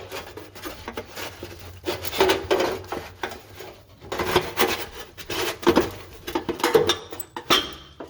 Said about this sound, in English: I'm working on shimmying out the heat shield right now, and it's on these little studs.